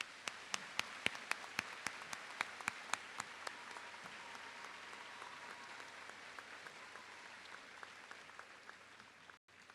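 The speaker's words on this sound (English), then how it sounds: "Please give them all a round of applause." A school Veterans Day assembly audience at West High claps together: dense, steady applause with sharp individual claps standing out near the start. It fades gradually and ends abruptly, with no talking over it.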